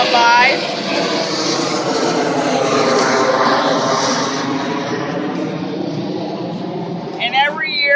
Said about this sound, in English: we got a plane going by